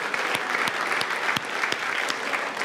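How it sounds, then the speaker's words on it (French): Applause from an audience at a college science event at Cégep de Trois-Rivières: a sustained, even wash of many hands clapping, with a few sharper individual claps standing out near the front. "Bonne main d'applaudissement quand même pour le Cégep de Trois-Rivières."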